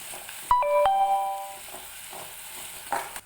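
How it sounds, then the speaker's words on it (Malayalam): Onions fry in hot oil in a pan with a soft, steady hiss, while a brief electronic chime rings near the start and a short clatter sounds at the end. "ഒരു ചട്ടിയിൽ കുറച്ച് എണ്ണ ചൂടാക്കി എടുത്തിട്ടുണ്ട് അതിലേക്ക് നമുക്ക് ഉള്ളിയിട്ടൊന്ന് നല്ലോണം കറുപ്പിച്ചിട്ടെടുക്കാം"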